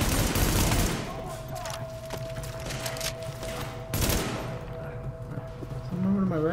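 Bursts of gunfire in the game The Division, a heavy volley at the start and another sharp burst midway, with steady tonal background sound between them.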